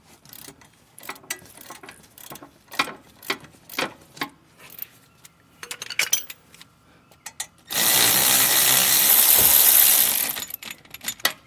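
A hand ratchet clicks in quick rhythmic bursts while undoing a bolt on a Ford Ranger, close and crisp, broken by a loud few seconds of hissing noise before the clicking resumes.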